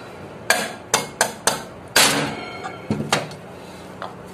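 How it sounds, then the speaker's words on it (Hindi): A hammer taps a ceiling fan part into place during a fan repair, a string of sharp, evenly spaced close knocks, then a heavier blow and a few lighter taps. "इस पर हल्के हल्की चोट मारेंगे हथौड़ा से बराबर से मारेंगे"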